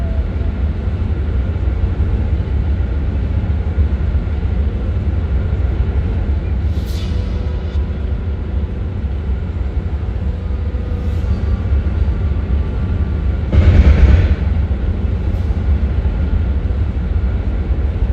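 Train in the Borderlands 2 video game, a steady loud low rumble running throughout with a brief swell near the end, alone without talk.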